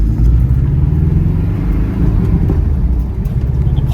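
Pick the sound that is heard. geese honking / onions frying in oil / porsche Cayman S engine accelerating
porsche Cayman S engine accelerating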